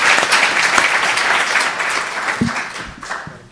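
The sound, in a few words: audience applause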